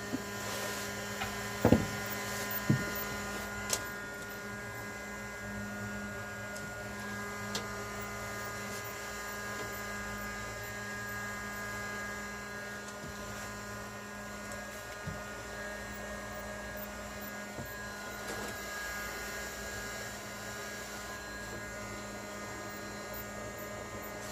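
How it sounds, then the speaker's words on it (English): A heat gun blows hot air into a Honda NTV650 motorcycle fuel tank, giving a steady electric whine and hum that runs unbroken for the whole stretch, with a few brief knocks near the start. "I'm going to try and dry this out now with my heat gun."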